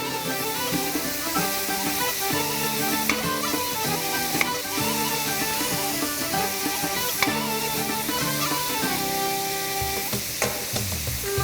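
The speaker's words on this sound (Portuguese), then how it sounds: "A cebola precisa também ser bem fritinha. Então a gente já coloca ela junto com a carne." Onion and meat frying together in a pan for goulash, a steady, loud sizzle with stirring scrapes running throughout, no talk.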